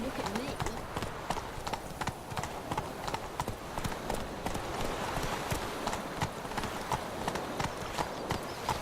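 Horse hooves clip-clopping in steady galloping rhythm in the video game Witcher 3, close and continuous with a voice speaking over them.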